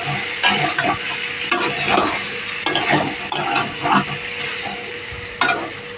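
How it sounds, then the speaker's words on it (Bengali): Spices cook down in a pan with a little water, a loud sizzle repeatedly broken by sharp scrapes and knocks of a spoon as the mixture is stirred in an irregular rhythm. "হালকা একটু জল দিয়ে এবার কষিয়ে নিচ্ছি"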